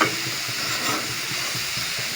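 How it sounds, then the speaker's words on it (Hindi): Chopped bottle gourd being stirred into a hot pan with browned onions, a steady loud sizzle with soft rhythmic scraping from the mixing, no talk. "लौकी डाल रहे हैं। अब हम इसको मिक्स करेंगे।"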